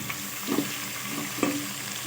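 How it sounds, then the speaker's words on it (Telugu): Small cut tomato pieces fry in a pan for egg biryani, giving a soft, steady sizzle with a couple of brief stirring scrapes, fairly quiet and with no talking. "ఈ టమాటా కొంచెం మెత్త అయ్యేంత వరకు మనము వేయించుకోవాలి"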